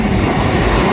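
Train passing through a railway station platform, a loud close continuous rumble of wheels and carriages rolling past without pause.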